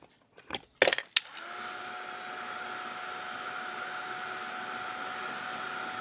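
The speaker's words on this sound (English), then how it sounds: "And now let's get our hand dryer out." A few clicks and knocks of handling give way to a craft heat tool's steady, close whirring blow as it dries a freshly spritzed Christmas project, running evenly to the end.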